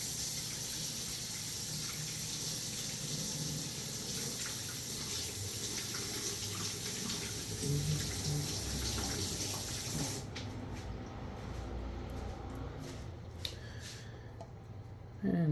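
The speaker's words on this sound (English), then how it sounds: "I'm going to rinse off my spatula because I don't need that extra." A spatula is rinsed under a running kitchen tap, a steady rushing stream of water. Near the end the flow breaks into splashes and clinks as the tap is turned off.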